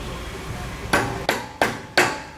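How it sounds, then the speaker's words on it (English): Four sharp, evenly spaced knocks of a mallet or wood block tapping a RexRack collector mounting into place, loud and close with quick decays and no talking. "have a mallet or a block of wood so you can tap this into place"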